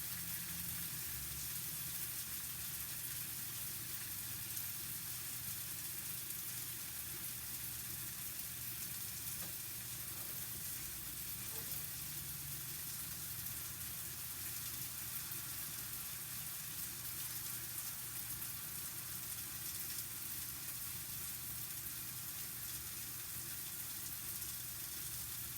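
Scallops frying in a non-stick pan, a quiet, steady sizzle with a soft continuous hiss and no talking.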